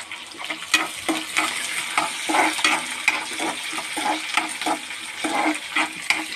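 Green chillies fry in a pan for upma with a loud, close sizzle, and a spoon stirs them in repeated rhythmic scrapes.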